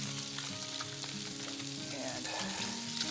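Baby bok choy frying in olive oil in a pan, a close, even sizzle throughout with a tonal kitchen hum beneath it.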